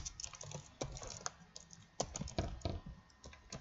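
A computer keyboard clatters through several seconds of close, quiet typing, keystrokes arriving in quick irregular clusters with brief gaps, over faint room hiss and no voices.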